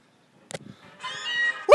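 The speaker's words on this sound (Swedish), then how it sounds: "Det blev en katt, fan!" A Meowth, the cat Pokémon in Pokémon Go, gives a short electronic cry after hatching from a 5 km egg, rising into a sustained tonal call at moderate volume, preceded by a brief click and faint rustling.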